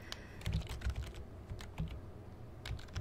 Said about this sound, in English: You can probably hear my keyboard. I'm typing real quickly